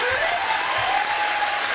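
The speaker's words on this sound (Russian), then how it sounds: "Это, я считаю, это ему аплодисменты, это не нам." Concert audience applauding, a steady dense wash of clapping throughout with a faint tone running over it.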